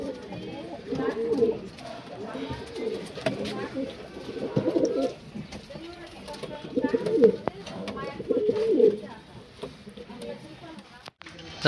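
Pigeons coo from an umbrella perch on a rooftop, soft low throaty calls coming in bursts close by, with people talking over them.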